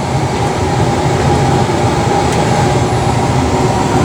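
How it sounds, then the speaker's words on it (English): An Airbus A300 rolls along the runway as it slows after landing in a flight simulator, a loud, continuous, steady rumble of tires and airframe with nothing else over it. "That's the airplane basically coming to a stop."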